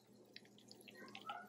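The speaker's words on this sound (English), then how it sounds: "as it keeps bubbling, it's going to evaporate all of the water that's in that butter" Butter being clarified bubbles gently as its water cooks off, making soft, faint, irregular pops and sputters over a quiet background, growing slightly busier toward the end.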